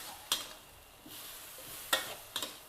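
Minced pork stir-fried with garlic and fresh chili, a soft sizzle in the pan broken by a few sharp scrapes and clinks of the spatula.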